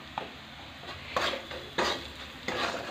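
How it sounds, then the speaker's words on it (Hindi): Ground coriander, red chili powder and cumin are stir-roasted in a pan for a spicy nenua (sponge gourd) curry: a spatula scrapes in a few distinct, evenly spaced strokes over a faint background, close and fairly quiet. "अब इसको हम अच्छी तरह से भूंज लेंगे।"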